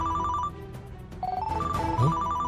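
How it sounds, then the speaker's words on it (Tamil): An incoming call sets off a melodic phone ringtone in a Tamil TV serial scene, its repeating tones ringing loud and steady across the whole moment, with no talk over it. "ஜார்ஜினி அக்கா ஃபோன் பண்றாங்க"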